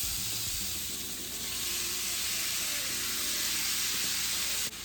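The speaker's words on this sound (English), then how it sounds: "you can go on and add the shrimp, if you wanna hear that sizzle" Shrimp sizzle and fry in a hot, slightly smoking pan for seafood gumbo, a steady, close, crackling hiss that holds for several seconds, with faint stirring clatter and no talking.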